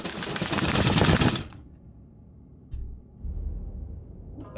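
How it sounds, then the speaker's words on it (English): A box full of Baneblade model kit parts is shaken, giving a dense, loud clattering rattle for just over a second, then stopping, followed by a couple of faint knocks and a low rustle. "That's the sound of a box full of Baneblade."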